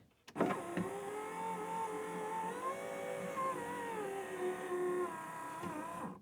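An aftermarket electric window regulator motor in a Mini Cooper R50/R52/R53 door raises the window with a close, wavering whir lasting about five seconds, bracketed by clicks at the start and stop.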